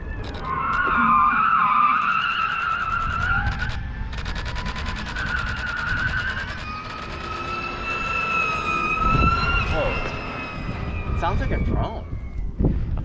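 A 1,400 hp electric Ford Mustang Mach-E launches with a loud, high-pitched whine that rises and falls like a drone, with tire-skid noise underneath and people talking nearby throughout.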